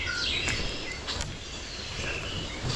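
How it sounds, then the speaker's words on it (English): Scattered bird chirps and short calls in the canopy at Magee Marsh in June, over a quiet background hum, several birds calling intermittently. "As you can hear, the birds are everywhere here."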